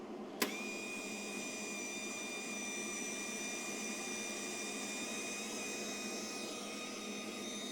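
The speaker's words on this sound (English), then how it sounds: "Now we're gonna turn the machine on. When we pull the trigger," A wire feed welder sits switched on, its feed wheel turning and pushing wire through; a faint, steady mechanical hum with a small click at the start continues evenly for several seconds without talk.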